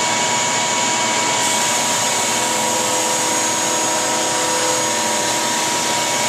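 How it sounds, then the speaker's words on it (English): Wooden segmented vase rings are sanded with a continuous loud, rushing whir that holds steady and unbroken from start to finish with no pauses. "We'll have these 3 rings sanded."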